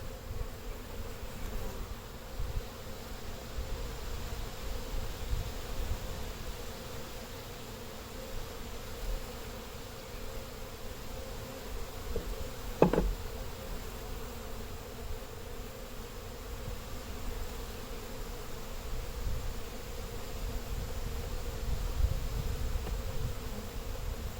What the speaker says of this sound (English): For Brendan, which are Saskatchewan